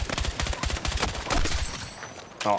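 Burst gunfire in the shooter Battlefield 6, with rapid, loud cracks coming in short clustered volleys across the clip and a final sharp burst near the end, with no talking.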